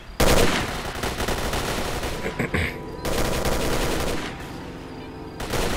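Sustained gunfire from a firefight in the video game S.T.A.L.K.E.R., dense rapid bursts of automatic fire running almost without pause, with a brief lull midway and another near the end.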